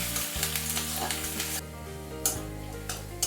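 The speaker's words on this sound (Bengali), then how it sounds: "পেঁয়াজ কুচিটা আমি ভালো করে একটু ভেজে নিচ্ছি" Steady, close sizzling of onions frying in hot oil, with a few clinks of a stirring utensil against the pan.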